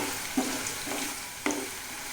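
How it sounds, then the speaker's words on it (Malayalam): Coconut pieces frying in a pan until light brown for beetroot mezhukkupuratti, a steady low sizzle with a couple of soft stirring clatters, close and alone. "ഒരു ലൈറ്റ് ബ്രൗൺ കളറാകും വരെ അതൊന്ന് വറുക്കുന്നു"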